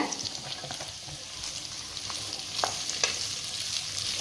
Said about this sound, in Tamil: நல்லா இந்த வெங்காயத்தோட இந்த எண்ணெயில் நல்லா பரட்டி விடுங்க